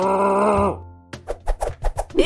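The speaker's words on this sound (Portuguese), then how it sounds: "Este é o som do hipopótamo, pronto para grunhir novamente." Hippopotamus grunting, a series of deep, rhythmic throaty pulses heard loud and close, following a sustained droning tone that drops away just before.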